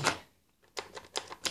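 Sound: typing on a Tenkey Neotype keyboard

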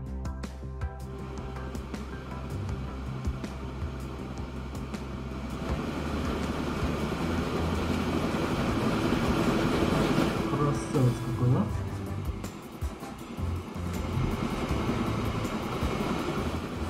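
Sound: train running in Transport Fever 2 video game

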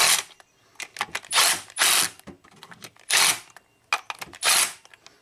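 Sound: bolts being screwed back in on a Volvo engine

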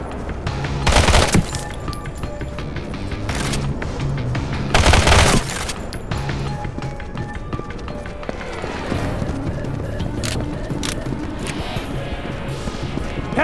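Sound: gunfire in the video game Modern Combat

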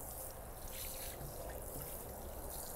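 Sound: watering compost in a salad container

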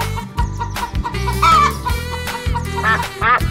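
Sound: chicken clucking

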